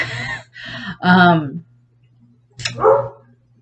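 A dog barks close by in three or four loud, sharp bursts with short gaps between them, then a pause before one more bark.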